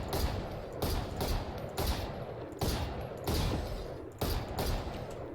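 Rifle gunfire in Valorant, about six sharp shots spaced roughly a second apart, each with a short ringing tail, with no talking.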